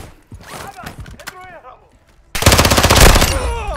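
Video-game automatic gunfire in Call of Duty: scattered shots and voices first, then a loud sustained rattling burst close up.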